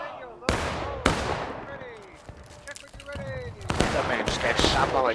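Gunfire in the Civil War video game War of Rights, several loud musket volleys and scattered single shots with echoing tails, some distant, with voices speaking between shots.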